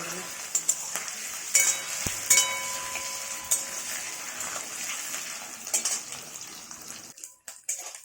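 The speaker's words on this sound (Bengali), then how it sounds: "পনিরগুলো লাল করে ভেজে নেব।" Paneer cubes frying in a pan for paneer masala, a steady close hiss of sizzling oil with occasional stirring clatters and scrapes, ending abruptly near the close.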